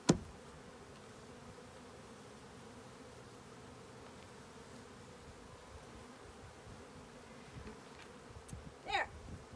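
A soft, continuous buzz of many bees humming together, fairly close, with a brief louder buzz of one passing near the end.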